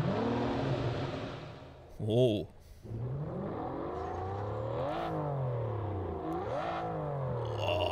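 A car engine in the game Test Drive Unlimited Solar Crown revs up and down repeatedly, rising and falling whines under a low rumble, with a brief voice exclaiming partway through.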